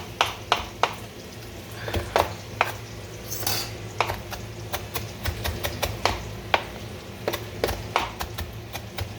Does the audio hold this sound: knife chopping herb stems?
yes